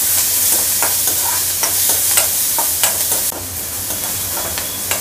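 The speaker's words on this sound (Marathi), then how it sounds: "कांदा याच्यामध्ये घालून घेते। थोडासा परतून घेऊया।" Chopped onion sautés in a pan for sooji aloo cutlets, giving a loud, steady sizzle with occasional scraping stirs and no voices.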